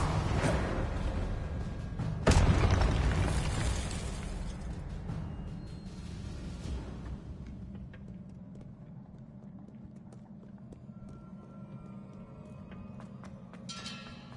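A Confringo explosive spell bursts in Hogwarts Legacy with a sharp, loud blast and crackle that fades into a lingering rumble, alongside other spell effects. A few later pops come through faintly over a steady low background.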